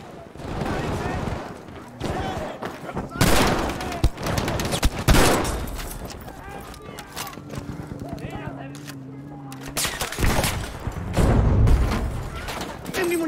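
Gunfire from a big-magazine weapon in Battlefield 5 comes in several loud bursts of rapid shots separated by quieter stretches, with someone talking between and over the shooting.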